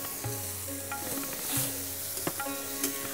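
Sliced capsicum strips stirred and fried in a pan, a steady close sizzle with scraping knocks and stirring clatter from a utensil; faint tonal hum beneath, no talk.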